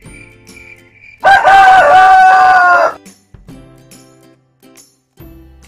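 A sick chicken being treated for snot, CRD and chalky droppings gives one loud, close rooster crow lasting under two seconds, with quieter rustling and faint background sounds before and after it.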